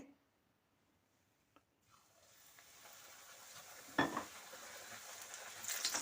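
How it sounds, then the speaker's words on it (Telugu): Puri frying in hot oil in a kadai: a faint, quiet start gives way to a steadily building sizzle, with a sharp clink of a utensil midway and louder bubbling toward the end. "ఇలా అన్ని వైపులా తిప్పుకుంటూ ఫ్రై చేసుకోవాలండి పూరీని."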